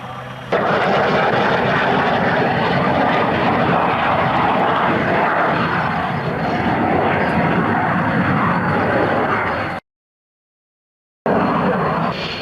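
A Sea King helicopter with twin Rolls-Royce Gnome turboshaft engines roars loudly and steadily at an RAF Coningsby airshow, with a brief dropout near the end before the engine noise resumes.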